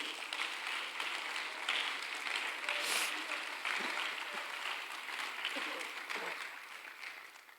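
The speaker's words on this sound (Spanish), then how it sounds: "Denle un aplauso al Señor, hermano." A church congregation applauds during a sermon, a sustained hissing wash of clapping at moderate distance, with some voices calling out over it.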